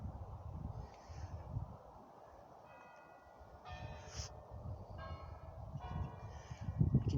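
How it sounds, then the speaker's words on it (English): Church bells in Barlborough village, Derbyshire, ring faintly in the distance, a few soft repeated chimes rising over low outdoor rumble and wind. "you can just hear the bells of the church"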